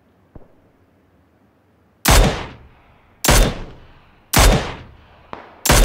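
Gunfire in the military shooter game Squad: four loud, sharp bursts of shots about a second apart, each ringing out briefly, after a faint click and near-quiet.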